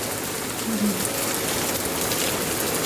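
Steady rain pattering down, a dense continuous hiss of drops spread evenly through the clip, fairly close and unbroken.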